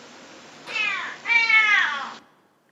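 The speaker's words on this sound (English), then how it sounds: "I have selected here the cat and the dog audios, just so you see how it sounds." Recorded cat meowing in two drawn-out, rising and falling cries, clear and close over a faint hiss.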